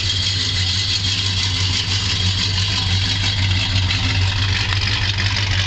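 A 1970 Plymouth GTX wagon idles outdoors on a chilly day, a steady, close engine rumble with a low throb that holds evenly throughout, without speech.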